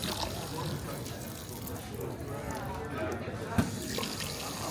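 A tap runs steadily for washing feet at a beach campsite, the water splashing continuously up close for several seconds while people talk faintly underneath.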